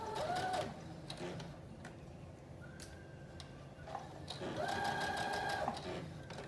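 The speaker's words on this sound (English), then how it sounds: "you're just going to put a stitch across the end to hold the tie in place" A sewing machine runs in short close bursts, stitching across the ends of the ties on a wrap dress, with rapid steady needle chatter that stops and restarts, plus quiet handling sounds between runs and no talk.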